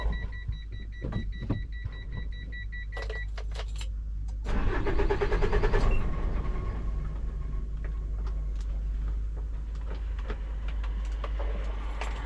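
A large 210-horsepower diesel dump truck engine cranks and catches, then settles into a steady low rumbling idle, with some clicks and clatter near the start.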